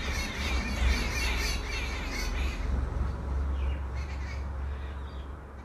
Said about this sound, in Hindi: चिड़ियों के चहचहाने की जो आवाज़ आ रही है उसका आनंद लीजिए।